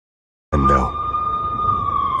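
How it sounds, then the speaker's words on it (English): Police sirens in the video game Max Payne Mobile wail steadily after a sudden onset, a sustained high tone holding over a low rumble, fairly loud and close. "I could hear the sirens. Their wail was a crescendo."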